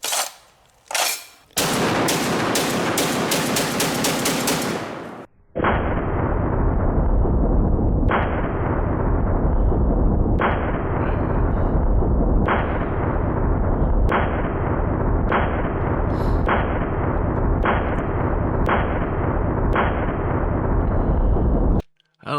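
A Barrett .50 caliber rifle being dumped through its magazine: a run of heavy, loud, booming shots spaced about two seconds apart, each with a long rumbling decay, following a brief burst of sharper sounds at the start.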